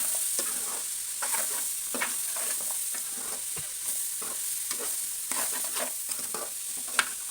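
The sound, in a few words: stirring turmeric into egg and broad bean curry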